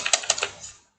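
A short burst of typing on a computer keyboard: a handful of quick, crisp key clicks close by, fading out within a second.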